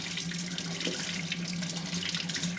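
Tap water runs steadily into a sink while a brass pooja vessel is washed, a continuous close splashing hiss with no voices.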